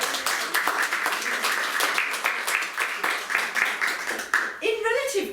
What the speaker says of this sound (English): let's have a big cheer for Steve, and a wave from Steve.